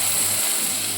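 Onions and curry leaves frying in a pan, a soft, steady hiss of sizzling oil with a faint low hum, ending in a small clink.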